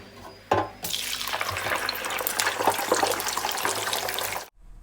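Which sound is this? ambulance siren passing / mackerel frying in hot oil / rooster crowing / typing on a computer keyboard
mackerel frying in hot oil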